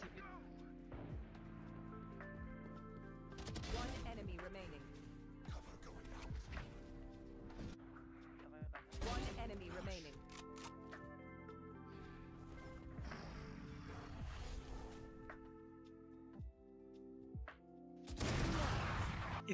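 Shooting in the Valorant video game comes in scattered close bursts and single shots between footsteps, ability effects and game music, with a voice talking over much of it.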